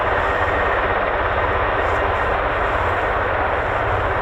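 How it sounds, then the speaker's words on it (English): A V-22 Osprey tiltrotor makes a conventional takeoff at RAF Mildenhall, a steady, dense, broadband engine and rotor roar holding constant at close range with no talk. "it's not that common to see a conventional takeoff from the Osprey, but we got it"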